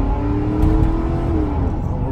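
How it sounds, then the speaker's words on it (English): A 2000 Lincoln Town Car, a 4,000-pound sedan, accelerating hard from a standstill with some wheel spin, its engine a loud, steady rising drone heard close up for the whole stretch. "2000 Lincoln Town Car, 0 to 60"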